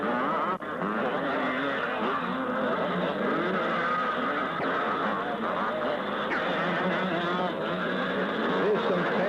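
Motocross motorcycles from a 1977 Australia versus New Zealand race, Yamaha and Maico machines, roar around corners in a dense continuous engine drone, with revs rising and falling as bikes pass.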